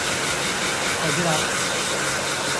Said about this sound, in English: Grab the hairdryer, it's got a lovely finish.